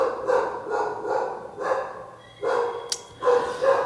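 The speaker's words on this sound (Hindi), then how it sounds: "ये बैकग्राउंड में कुत्ता भौंक रहा है" A dog barks repeatedly in the background, loud and fairly close, in uneven bursts over several seconds with a brief high squeak among them.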